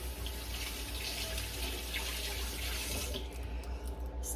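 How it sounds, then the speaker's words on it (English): Water running from a kitchen tap while hands are rinsed, a steady close rush and splash that goes on without pause and thins slightly near the end. "I'm going to rinse my hands."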